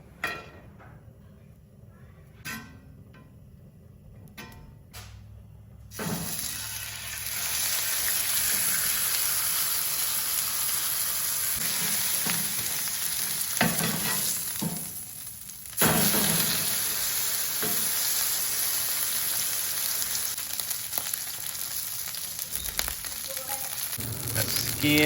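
Salmon frying in beef tallow in a pan, a dense, continuous sizzle that swells loudly after a few seconds of quieter clatter and keeps crackling close up for the rest of the stretch.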